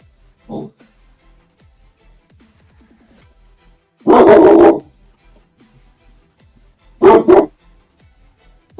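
A dog barks in three separate bursts: a short faint yip, then a loud sustained bark, then two quick loud barks close together, with silence between them.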